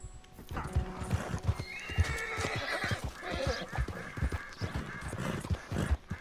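A tired horse in Red Dead Redemption 2 trots with rapid clip-clopping hooves, snorting and whinnying loudly at close range, with creaking tack and no speech.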